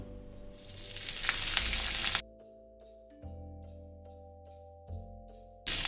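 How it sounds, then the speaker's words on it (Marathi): Green chillies roast in a little oil on a tawa, crackling and sizzling softly, then giving way to quieter intermittent ticks and pops with low background hum. "या मिरच्या आहे ना तव्यावर छान व्यवस्थित खमंग भाजून घेऊया त्याच्यामध्ये ना थोडंसं तेल घालते मी"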